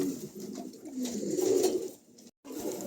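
A pair of German Cooper pigeons, a blue female among them, coo softly and fairly close in a low, rolling murmur, then fall briefly silent before the cooing resumes.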